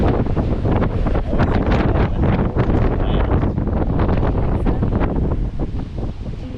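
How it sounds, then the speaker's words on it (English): Strong wind buffets the microphone at sea aboard a Disney Wish cruise ship, with rough ocean waves surging below in a loud, continuous roar that hardly changes throughout. "The ocean's rough tonight."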